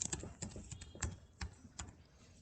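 A party name is typed on a computer keyboard and Enter pressed, giving a quick run of close, crisp key clicks with a few heavier strokes, no voices.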